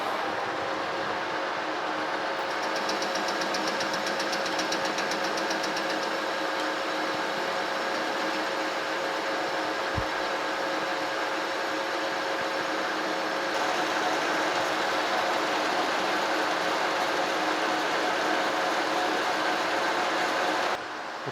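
A metal lathe turns down a new shaft for a New Haven metal planer, taking about 25 thousandths per pass: a steady, even machining drone holds throughout, with one sharp tick partway through.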